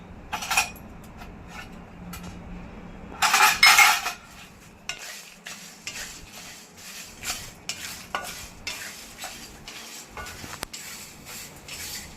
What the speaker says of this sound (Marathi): आणि हे सगळे खडे मसाले आपल्याला कोरडेच भाजून घ्यायचे त्याच्यात तेलाचा वापर बिलकुल नाही करायचा